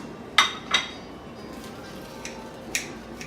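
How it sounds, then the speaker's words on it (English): A knife slices pakoras into pieces for chaat, giving a few sharp clinks against a plate: two quick taps close together, then sparse fainter ticks, with no talking. "Pakoras, we cannot put the whole thing, so I'm going to cut into little slices."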